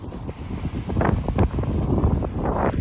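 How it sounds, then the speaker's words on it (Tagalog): Strong wind out at sea off Gunsan, South Korea, on a fishing outing: a loud, gusty low roar and buffeting against the microphone, steady throughout with no voices. "Wow, lakas ng hangin boy."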